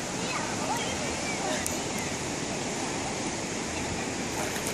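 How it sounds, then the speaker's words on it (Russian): Mismaloya river flowing below a monkey bridge near green water, heard as steady broadband rushing water with no breaks, moderately loud and continuous throughout. "спустились к речке"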